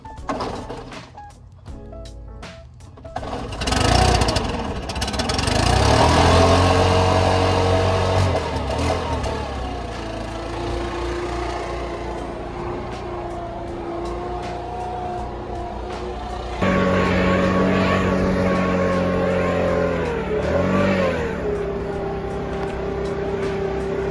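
A Honda HRN 170 lawn mower cuts through a heavily overgrown yard with a steady, close engine drone that loads up and shifts in pitch partway through, with no talking.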